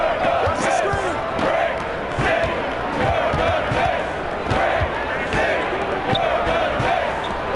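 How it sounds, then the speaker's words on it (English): An NBA playoff crowd roars and chants in a packed basketball arena, a dense steady wall of voices with rhythmic surges, under continuous close play-by-play commentary. "I was taking a couple seconds to listen to what the crowd was chanting."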